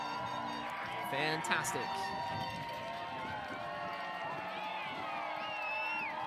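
Fans in the visiting stands at a high school graduation ceremony rise together, their applause, cheering and clapping forming a broad, steady crowd roar beneath an announcer's amplified voice, with a few whoops rising above the wash.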